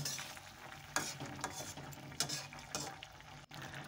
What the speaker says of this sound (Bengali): দিয়ে আমি হালকা করে একটু নেড়ে দেবো।